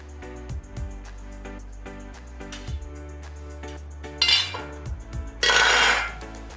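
Steel cooking pot of lentil dumplings in buttermilk curry being opened and lifted off the stove: light metallic clinks and taps, then two louder scraping, hissing bursts close by, over a faint steady background hum, no speech.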